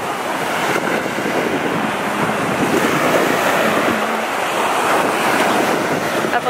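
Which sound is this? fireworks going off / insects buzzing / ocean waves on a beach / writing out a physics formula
ocean waves on a beach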